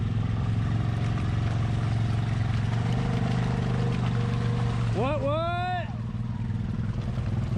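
An ATV engine revs hard while churning through swamp mud at an ATV park, a steady rumbling drone broken by a sharp rising throttle burst near the end, with a brief shouted word close by.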